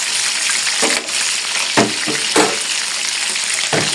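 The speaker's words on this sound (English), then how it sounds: "when you're frying something." Food frying in hot oil on a gas stove for a pepper stew gives a loud, steady crackling sizzle with a few sharper pops and stirring scrapes and no talk.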